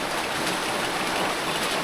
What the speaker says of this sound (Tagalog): malakas pa yung ulan guys.